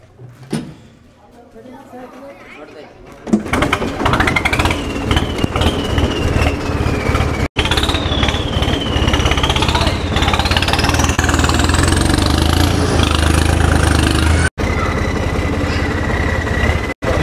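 A tractor engine cranks and catches after a few quiet seconds, then runs loud and steady close by, with a rising and falling whine over its idling rumble while people talk.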